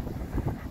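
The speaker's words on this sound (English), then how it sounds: "it is so cold and windy" Soft, cold winter wind with blowing snow in Muskoka, Canada, blows across the microphone in low, gentle gusts, faint and continuous with no voices.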